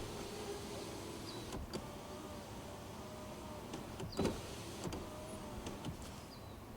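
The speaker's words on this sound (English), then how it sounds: "now for the clearance test on the front passenger window" A car's front passenger power window moving up and down, fitted with side window weather deflectors: a faint, low motor whir with a few soft clicks and thumps as the glass travels and stops.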